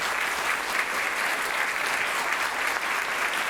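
A lecture audience claps continuously after a neuroscience talk, a dense, even wash of hand claps sustained throughout at close range.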